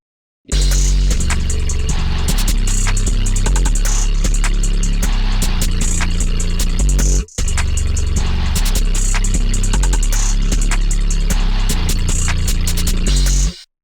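Dark plugg drum beat with a heavy, booming caveman-style 808 and crisp percussion, a loud, steady looping pattern with a brief dropout midway, no voices.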